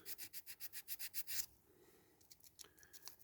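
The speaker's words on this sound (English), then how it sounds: "My wet and dry, or any sandpaper that you got, which is quite thin. This is 800, this one." A diecast model being sanded with folded 800-grit wet and dry sandpaper, first a quick run of about ten rhythmic back-and-forth rubbing strokes, then quieter, irregular scratching, all close and faint.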